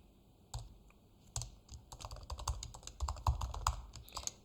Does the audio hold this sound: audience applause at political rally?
no